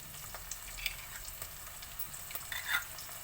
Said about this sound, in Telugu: ఇదిగోటండి, ఇది వేగుతున్నది.